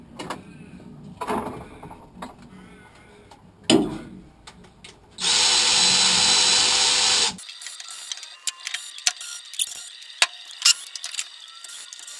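Power tool undoing the many fasteners on a Land Rover gearbox, heard as short clattering bursts, then a loud sustained whir for about two seconds, followed by quieter metallic clicks and knocks close by.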